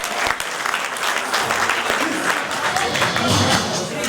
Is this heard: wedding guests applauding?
yes